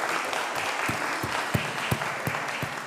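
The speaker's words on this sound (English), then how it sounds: "Please, when they come on stage, don't hesitate to give them a round of applause," Audience applause at a convener's speech event, a steady wash of many hands clapping with a few louder individual claps standing out, fairly close and continuous throughout.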